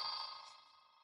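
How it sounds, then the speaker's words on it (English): A simulated IP phone ringing in Cisco Packet Tracer: a bright electronic ring tone with steady harmonic tones, starting loud and fading gradually over about a second, alone without talk. "And it is ringing."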